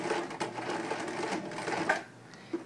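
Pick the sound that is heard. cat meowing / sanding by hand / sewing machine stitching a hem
sewing machine stitching a hem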